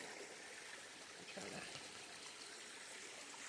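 A mountain stream on the Appalachian Trail trickles and burbles in a soft, continuous rush of water, faint and steady with slight splashy swells, heard alone.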